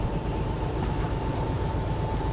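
Train in the Derail Valley simulator game slowing to a stop, a continuous loud rumble of wheels on rails with a faint high squeal and steady tonal hum.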